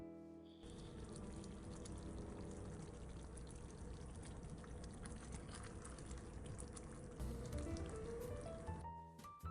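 A steady, dense pour of canned tomatoes into a pan, with a wet rushing and light sizzling texture. It continues evenly for several seconds before tapering off.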